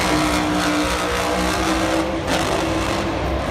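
Monster truck engine at a Monster Jam freestyle run in Glendale, popping and roaring continuously at high revs, loud and sustained throughout with crowd noise behind it.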